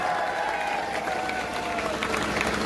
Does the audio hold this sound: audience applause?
yes